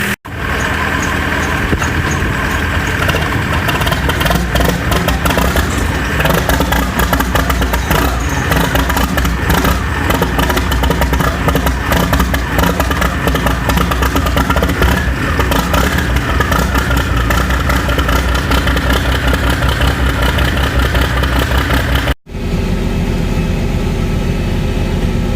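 An old 4430 tractor engine runs steadily and loudly close by, a continuous rough mechanical drone with clatter that holds for over twenty seconds, briefly cuts, then carries on.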